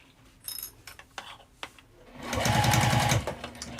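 A sewing machine fitted with a blind hem foot stitches a fabric wristlet in one short, loud, steady run after light handling clicks, close to the listener.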